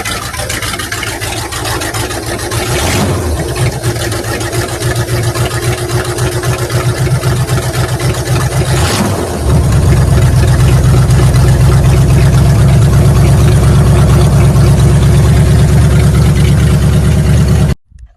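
A car engine running on old fuel idles with a low, uneven rumble; it deepens and grows louder partway through, then cuts off abruptly at the end.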